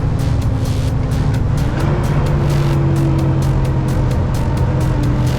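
Steady loud engine drone of a truck cab with road rumble and rhythmic ticking, the engine note shifting slightly as the truck slows, no talk.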